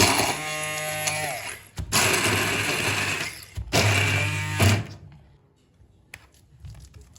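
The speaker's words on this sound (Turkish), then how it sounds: "portakal kabuklarımızı blenderdan geçirme sıra geçirmeye geldi" A blender chopping orange peels roars in three loud bursts separated by short pauses, grinding and rattling, then cuts off leaving quiet background clatter.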